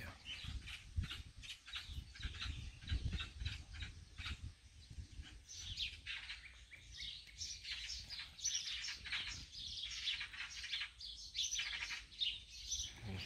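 Many birds chirp and tweet together in a busy, continuous chorus, fairly faint and distant, with a few louder calls rising over the rest.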